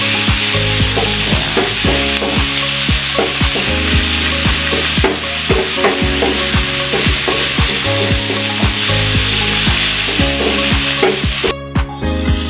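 Sardines and cabbage with tomato sizzle loudly in a frying pan while a utensil stirs and scrapes through them in a quick, irregular rhythm. The sizzling continues without a break, close up and with no talking.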